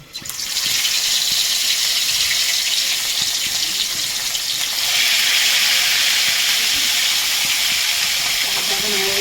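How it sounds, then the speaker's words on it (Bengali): Marinated fish dropped into hot mustard oil in a heated pan, a loud, steady broadband sizzle and hiss that continues throughout without pause, with no talking. "আমার মাখানো মাছটা আমি ভাজি নেব।"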